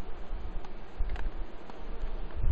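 Honeybees brushed from a top bar hive give off a faint, steady buzzing hum with small irregular swells, low-level and continuous with no voices.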